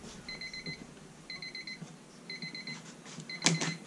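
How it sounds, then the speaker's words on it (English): A timer alarm beeps in short, rapid bursts of high electronic tones, repeating about four times at roughly one-second intervals, followed by a brief clatter near the end. "so there goes our timer"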